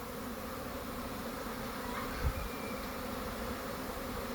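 A honeybee swarm arrives at a swarm lure outdoors, giving a steady, dense, moderately faint buzzing hum that carries without a break through the whole stretch.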